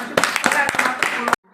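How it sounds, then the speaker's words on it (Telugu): Students clap their hands in a quick burst of sharp, close claps lasting just over a second, with voices mixed in, before it cuts to silence. "చప్పట్లు కొట్టండి అందరు."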